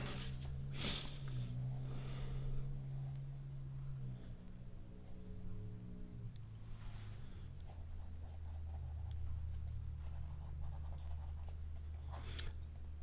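Soft, steady scratching of a graphite pencil held flat and shading across paper during a drawing demonstration of feathers, fins and foliage, faint and close over a low background hum.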